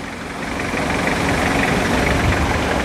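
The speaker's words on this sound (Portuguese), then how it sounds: "Olha aí, o motor tá funcionando." Toyota Hilux engine running in a workshop, a steady low rumble with a rough mechanical texture and broad hiss, continuous and close, swelling slightly after the start with no talk over it.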